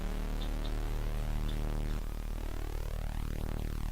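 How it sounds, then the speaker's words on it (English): Fat sawtooth wave tone generated by a PC Engine (TurboGrafx) sound chip, a bright buzzy sustained pitch that shifts midway and then sweeps in warbling glides, playing alone at a modest level. "It's a nice fat sawtooth wave."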